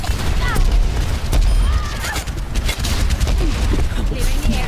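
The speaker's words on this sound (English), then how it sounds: "It's like we're always doing rocket barrage. With 4 Pharahs." Repeated rocket barrage explosions from several Pharah heroes in the Overwatch video game, a dense, loud, continuous stream of blasts and booms with overlapping game voices.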